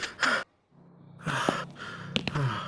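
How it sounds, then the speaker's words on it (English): A video game character from Spirit Hunter: Death Mark II breathes hard in a few sharp gasps and sighs, loud and close, with short pauses between breaths. "Sorry, I can't hear you over your panting."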